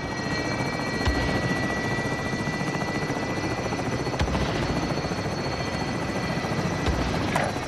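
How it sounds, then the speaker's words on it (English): Helicopter arriving in a Call of Duty game, its rotor thudding in a loud, steady, close drone that fills the clip with a few brief sharper accents along the way. "Helo is in position for your deposit."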